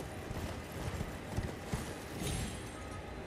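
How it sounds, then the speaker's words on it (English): Horse hooves galloping in the video game Elden Ring, with a steady run of muffled thuds under dense, noisy game ambience and music. "Horse combat, gotta get it down."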